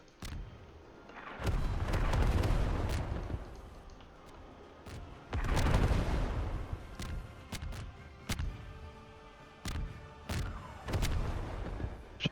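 Explosions in a Star Wars Clone Wars video game, heavy booming blasts and sharp cracks repeating irregularly, some long rumbling bursts and quick single shots, loud and dense with no voices.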